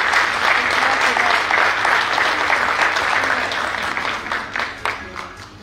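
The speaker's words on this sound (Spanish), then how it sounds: "Un fuerte voto de aplauso" Sustained applause from a crowd in the Chamber of Deputies, loud and steady for several seconds, then thinning out slightly toward the end.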